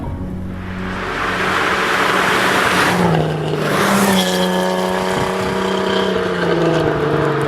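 A Datsun 510 engine revs and pulls close by, rising in pitch as the car accelerates and shifts, with loud sustained motor noise and a brief whooshing pass.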